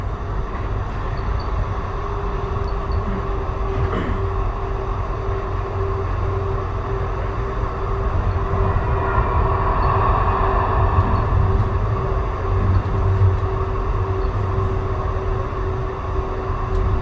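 Steady rolling rumble and hum fill the cabin of an ETS Siemens U2 light rail car, number 1029, riding Edmonton's Capitol Line from Southgate toward Clareview. The sound is continuous and fairly loud, with no talking.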